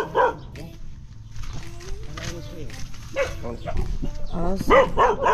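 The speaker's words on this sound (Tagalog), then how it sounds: "Aso." Several dogs bark and yip nearby at a rural house, with sharp repeated barks throughout and a person talking over them.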